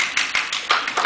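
Applause from attendees at a science fiction convention business meeting, a short burst of sharp clapping with several distinct loud peaks, close and fairly thin.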